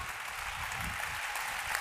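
Applause from the audience at a tourism event's closing ceremony, a faint, even wash of many hands clapping with no speech over it.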